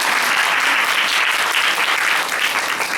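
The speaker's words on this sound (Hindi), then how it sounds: "तालियों से स्वागत दीदी का करें" Loud, dense applause welcomes a woman councillor at a girls' skills camp gathering, a continuous roar of many hands clapping without a break.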